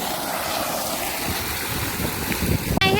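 An electric water pump motor runs on a village farm, pumping water out of a well: a steady, loud broadband roar and rush that stays even throughout, with a brief sharp cutout near the end.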